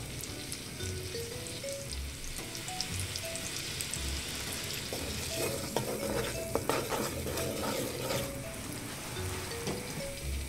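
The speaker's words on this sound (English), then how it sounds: "So we're just going to get that butter melted off." Butter melting and sizzling in a pan, steadily crackling and popping throughout, close and fairly quiet, with no talking.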